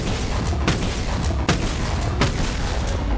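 Starfield's Big Bang shotgun modded into Bonelab fires three loud, booming shots spaced roughly 0.7 seconds apart, each a sharp full-range blast over a steady, dense roar of background noise.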